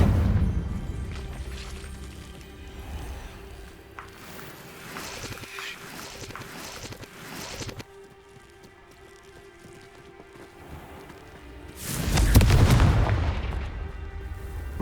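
A Confringo fire spell in Hogwarts Legacy bursts into a loud, deep explosive boom near the end, rising out of a steady bed of game ambience, effects and music.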